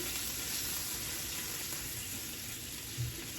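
Meatballs browning in a pan give a faint, continuous sizzle, a steady low hiss with one brief soft bump near the end.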